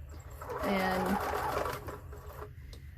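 A sewing machine runs steadily while sewing a zipper cover for a chair or sofa cushion, its hum continuing close by under a speaking voice.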